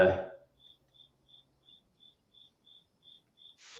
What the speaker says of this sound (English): It's real crickets.